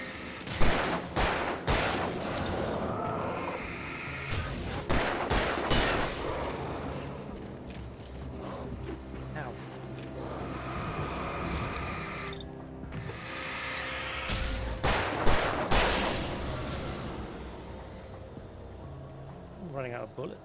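Gunfire in the video game Alan Wake Remastered on PC comes in loud, sharp bursts of shots near the start, the middle and later on, with someone talking over the action.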